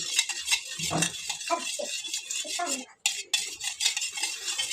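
A spoon stirs briskly, dissolving a cleaning mixture in water, clinking against the container in a steady run of strokes, close and fairly loud, with a brief pause near the end.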